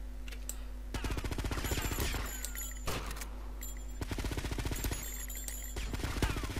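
Rapid, dense gunfire in GTA Vice City, sharp repeated shots in clustered volleys that crackle almost continuously and loudly throughout.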